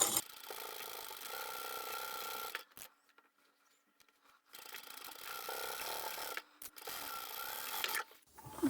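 A sewing machine stitches a fabric book bag near a magnetic clasp on its flap, running in two long, steady stretches separated by a quiet pause of a couple of seconds.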